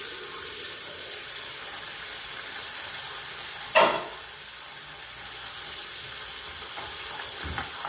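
Potatoes for a posto curry cook in a pan, giving an even, close hiss of simmering liquid with a single sharp knock partway through.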